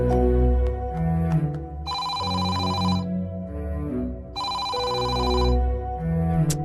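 A telephone rings in two long electronic trills separated by a pause, loud and close over a background music score in a household drama scene.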